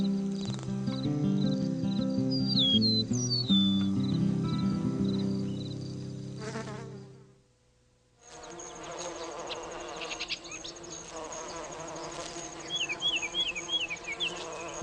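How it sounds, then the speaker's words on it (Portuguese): Solitary bees buzz in a steady, droning hum with layered tones, broken by a short near-silent gap before the buzzing resumes, with faint chirps over the top. "quando adultas, essas abelhas solitárias viram polinizadores eficientes"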